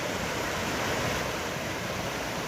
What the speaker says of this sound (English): Oh, this is the Animas River